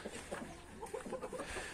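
A black rooster clucks nearby, a short series of low, throaty clucks over faint outdoor background noise.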